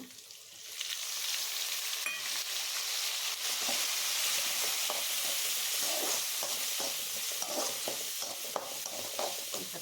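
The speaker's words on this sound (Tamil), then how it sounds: "தக்காளி கொஞ்சம் நல்லா வணங்கட்டுங்க" Chopped tomatoes frying with garlic in a pan for drumstick sambar, a steady close sizzle with faint stirring scrapes and ticks throughout, no voices.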